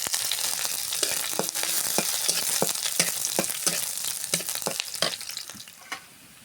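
Chopped garlic, onion and green chillies fry in a hot pan. They give a steady sizzle broken by the scrape and clack of a spatula stirring, then fade toward the end.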